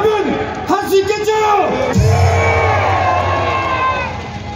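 A rally crowd cheers and shouts loudly, with rising and falling whoops and bellows over a full, steady roar that fades slightly toward the end.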